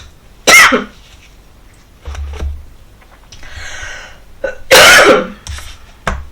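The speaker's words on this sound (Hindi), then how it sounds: "वापस से खांसी आ रही है" Two harsh coughs several seconds apart, near and loud, with throat clearing and breathy sounds in between.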